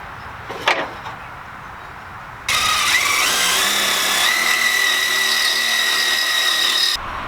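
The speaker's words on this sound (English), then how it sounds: "We need to mark that hole and drill it. It's a 1/2 inch hole." A power drill bores a 1/2 inch hole through the frame of a 2019 Cummins truck during a lift install, a loud continuous whine with rising pitch running about four and a half seconds after a short knock.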